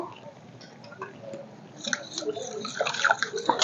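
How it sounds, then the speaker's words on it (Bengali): Water poured into flour and a little sugar for a bottle gourd leaf dish and stirred in, with soft wet squishing and sloshing that grows busier toward the end and faint voice in the background. "আর দিয়ে দেব জল জল দিয়ে গুলে"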